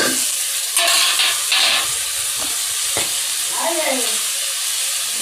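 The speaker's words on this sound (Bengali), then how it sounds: "এদিকে মাছ ভাজা হয়ে গেছে, এদিকে আমি মশলা কষাচ্ছি।" Spices sizzle and hiss steadily in hot oil in a pan as they are stirred and cooked down, with occasional scraping clinks over the continuous frying noise.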